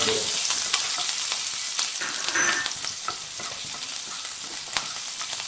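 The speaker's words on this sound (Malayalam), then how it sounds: "നമ്മുടെ ഇഞ്ചിയും വെളുത്തുള്ളിയൊക്കെ ഒന്ന് നന്നായി വാർന്നവരൊന്ന് ഇളക്കി കൊടുക്കാം" Ginger, garlic and green chili masala frying in oil in a pan, a close, bright continuous sizzle with small pops and crackles and occasional stirring scrapes.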